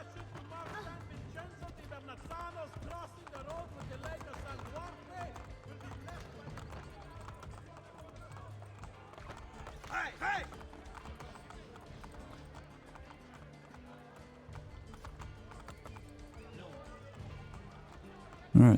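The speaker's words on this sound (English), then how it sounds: "Might help if I can get on my horse." A horse gallops in Assassin's Creed Brotherhood, hooves clip-clopping in a quick, steady rhythm at moderate volume that continues under game ambience and occasional talk.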